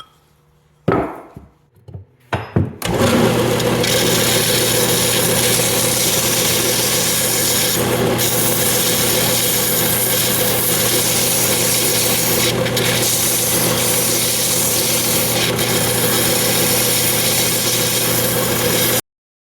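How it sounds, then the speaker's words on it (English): A sander grinds a railroad spike being shaped into a tomahawk head, a steady loud abrasive whine starting after a few brief clunks and running continuously to the end. "now we will go to the sander and see if we can get this to be a really nice match"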